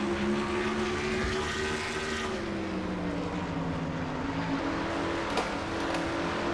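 Onboard engine roar of a Ford race car in an oval-racing video game, revving high and steady with a slowly shifting pitch while cornering, loud and continuous throughout.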